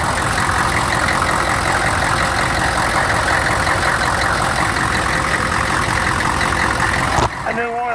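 A Ford 6.5 turbo diesel engine idles close by, a loud steady clattering drone that holds evenly before cutting off abruptly near the end.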